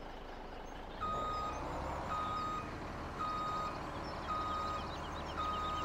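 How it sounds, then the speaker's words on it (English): A truck in the video game Farming Simulator 17 rumbles steadily nearby, its engine under a series of regular high-pitched reversing beeps that repeat throughout, with no one speaking. "We'll let the truck pass."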